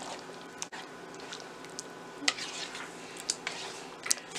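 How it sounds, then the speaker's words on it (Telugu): Cream being stirred into butter chicken in a pan, soft close scraping and squishing with a few light clinks of a utensil against the pan, quiet and intermittent. "పావు కప్పు క్రీమ్ వేసుకొని కలుపుకోవాలి"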